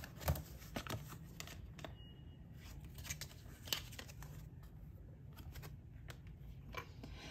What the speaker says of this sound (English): Let's shuffle more cards